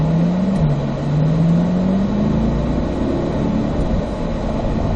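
Race car engine on the Spring Mountain North Course drones loudly and close throughout, its pitch dipping briefly then climbing steadily as it accelerates, with no voices.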